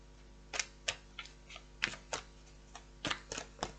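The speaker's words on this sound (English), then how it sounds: "Let's give this a little bit more of a shuffle." Tarot cards being shuffled during a reading, giving a string of sharp, papery riffling clicks and taps in uneven bursts, close and fairly quiet over a low steady hum.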